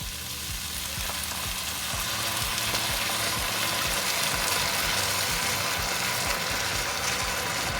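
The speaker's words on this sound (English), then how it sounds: "I'm adding about 200 ml of coconut milk." 200 ml of coconut milk poured into a hot pan of lamb meatball coconut curry: a loud, steady frying sizzle that grows after the first seconds, with rhythmic stirring scrapes underneath and no talking.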